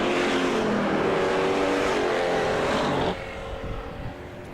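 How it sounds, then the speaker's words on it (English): Factory stock race cars at Perris Auto Speedway roar past loud and close in a dense, unbroken engine blare, which drops to a lower, thinner drone for the final second and a half. "This is some good factory stock racing we have going on here."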